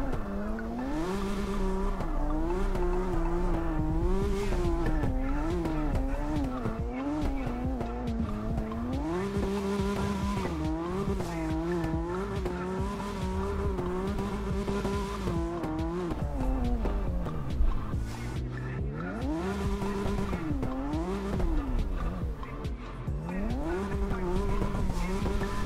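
A race car drifts in the video game CarX, its engine note climbing and falling in long sweeping tones while tires squeal continuously beneath, loud and unbroken throughout.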